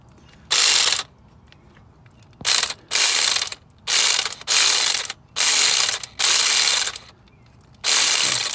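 A ratchet wrench loosens a bolt on the belt tensioner of a Mercedes E320, its clicking pawl buzzing in about seven quick bursts of roughly half a second to a second each with brief gaps between, close and loud, with no talking.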